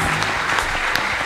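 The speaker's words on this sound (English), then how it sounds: "will you put your hand together for Jesus? Are you clapping for him?" Church congregation applauding, a dense, even clapping from many hands filling the room, with no voices over it.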